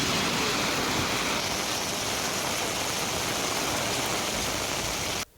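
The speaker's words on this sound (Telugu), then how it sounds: "విజయవాడలో ఈదురుగాలులతో వర్షం కురిసింది" Heavy rain driven by strong winds pours steadily in Vijayawada, a dense, loud, unbroken wash of noise that cuts off abruptly at the end.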